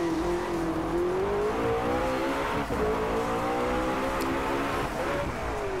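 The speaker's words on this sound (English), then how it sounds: "Excellent engine noise." A high-revving supercar engine in the racing game Driveclub drones steadily, its pitch rising and falling slightly as it holds near full throttle, loud and close throughout.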